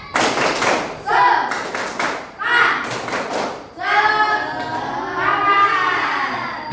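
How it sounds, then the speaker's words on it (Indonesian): Standing schoolchildren in a sixth-grade class perform a rhythmic group clapping chant, bursts of loud unison claps broken by pauses, with children's voices chanting along and growing louder toward the end. "Ayo, tepuk semangat"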